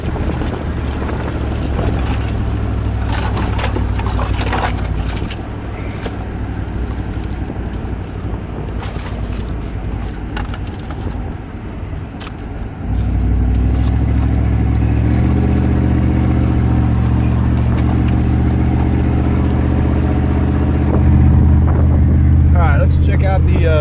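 A car with a small-block Chevy engine fitted with a TBI intake manifold on its first drive, with a steady loud engine drone and wind rumble that steps up in pitch and volume as it accelerates, and voices talking over it.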